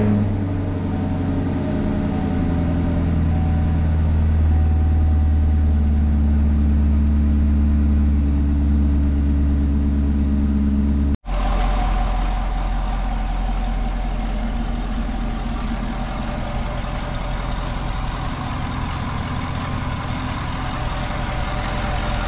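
A 2021 Chevrolet Camaro SS 1LE with a newly installed LT2 intake, its engine running at a steady, loud, close idle, a low rumbling drone that briefly cuts out midway before settling back into the same even idle.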